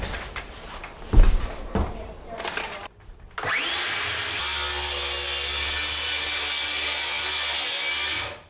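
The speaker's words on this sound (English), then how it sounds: "So I'm gonna cut out a big wedge right now out of this sheet." A power saw cuts a big wedge from a thin plywood sheet during a mobile home renovation clean-out, running as a loud, steady whine for several seconds after a few brief knocks and handling sounds.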